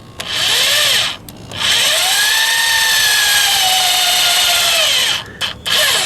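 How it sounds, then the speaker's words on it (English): A power drill bores into spot welds on the wrecked front end of a Toyota Celica GTS, whining loud and close with a rising and falling pitch as the load shifts, broken by two brief pauses. "Drill down into them a little bit with this"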